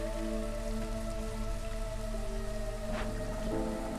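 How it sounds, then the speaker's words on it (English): Steady hiss of rain in the colony-building video game Against the Storm, an even wash of white-noise patter throughout with a sustained musical drone underneath and no voices. "Rain sound in this game is peak white noise."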